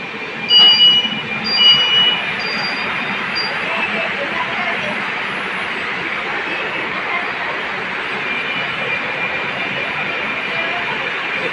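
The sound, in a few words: Kolkata metro train running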